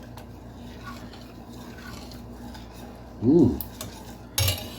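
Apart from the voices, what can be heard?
stirring pumpkin soup in a pot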